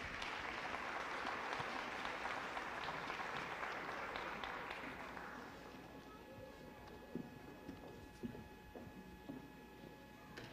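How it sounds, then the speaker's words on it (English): Applause from a pageant audience for May Koppler and the other contestants at the Fostoria Glass Pageant, a dense steady clapping that gradually thins and softens, with a few scattered louder claps near the end. "A big round of applause for May and all of the other contestants."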